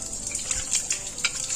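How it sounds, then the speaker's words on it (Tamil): Rice and lentils are rinsed in water, producing soft, intermittent sloshing and splashing in short bursts, close by and fairly quiet. "இப்போ இந்த அரிசியும் பருப்பையும் ஒரு 3 டைம் நல்லா களைஞ்சிட்டு"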